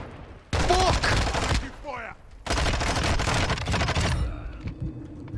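Bursts of loud automatic gunfire in Call of Duty: Modern Warfare, two long volleys separated by a short gap, with players' voices mixed in around the shooting.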